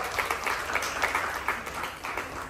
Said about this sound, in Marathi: चला एकदा टाळ्या वाजवा सगळ्यांसाठी